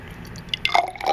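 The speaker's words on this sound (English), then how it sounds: "So let me pour a little water in here." Water is poured into a graduated cylinder in a short burst of splashing and dripping that builds toward the end, close and fairly clear.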